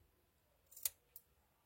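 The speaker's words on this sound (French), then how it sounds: "on va s'amuser à couper" Scissors snipping ribbon for a Christmas banner, one crisp close cut followed by a second fainter snip in a quiet room.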